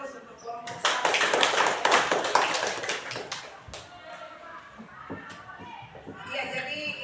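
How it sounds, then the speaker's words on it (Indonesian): Applause from students for a student group in a classroom, a burst of quick hand clapping that swells and then trails off into scattered claps while children chatter and someone speaks. "kita kasih aplaus untuk kelompok 1"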